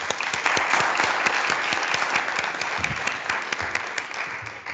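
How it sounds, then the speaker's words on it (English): A conference audience applauds the speakers at the close of a session, a steady round of clapping with distinct claps standing out near the front, continuing without talk. "Please give our speakers a round of applause."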